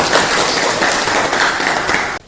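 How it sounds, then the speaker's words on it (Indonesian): A classroom of students claps for the first group in a primary school lesson, a loud, dense burst of hand claps that stops abruptly. "Tepuk tangan untuk kelompok 1"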